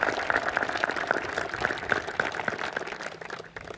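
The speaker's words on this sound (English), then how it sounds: "please join me in a round of applause for his service to Oregon Tech" An audience claps in steady applause honoring someone's service at an Oregon Tech event, a dense even patter that holds throughout and slowly thins toward the end, with no voices over it.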